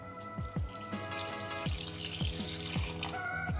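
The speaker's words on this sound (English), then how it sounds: "we're gonna add 2 cups of water" Two cups of water pour into a pan of dates for an Indian street-food chutney, a steady splashing stream with a few drips and clinks, close and moderately loud, with no one talking.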